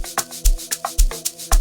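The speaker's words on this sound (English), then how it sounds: "what we're gonna hear here is that we have our sliced amapiano drums over here" Sliced amapiano drums playing from a slicer in FL Studio Mobile: a steady, loud loop of punchy kicks with short percussive hits and tonal bass notes between them, with no voice.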